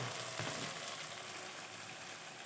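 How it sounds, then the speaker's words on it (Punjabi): Okra sizzles as it fries in a pan, a constant, fairly faint crackling hiss with one brief stir early on. "ਇੱਧਰ ਸਾਡੀ ਭਿੰਡੀ ਹੋ ਰਹੀ ਹੈ, ਥੋੜ੍ਹੀ ਜਿਹੀ ਫਰਾਈ ਕਰਨਾ ਹੈ"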